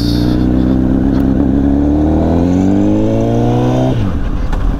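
A 2006 Honda CBR1000RR sportbike revving hard while being ridden, its engine note climbing steadily through the gears in a loud, continuous whine that drops off sharply near the end, with wind rush throughout.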